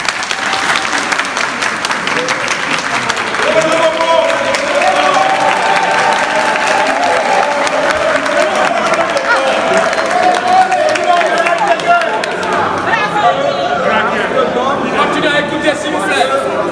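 A large crowd at a workers' reception for a company director applauds loudly and continuously, with cheering and voices mixed into the dense clapping throughout.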